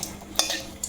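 Bay leaf and two dried chillies crackle faintly in a hot pan as a spoon stirs and scrapes them, with a few brief louder clinks.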